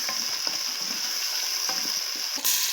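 Garlic, ginger and green chili paste sizzles steadily in a hot pan, with a bright continuous crackle and soft stirring scrapes; the frying swells louder near the end.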